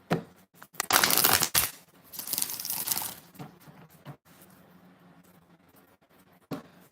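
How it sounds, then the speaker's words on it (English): A Morgan Greer tarot deck is shuffled, a dense burst of crisp card riffling and crinkling for about two seconds, then softer card handling and shuffling that fades to quiet with a brief tap near the end. "6 shuffles for Danielle."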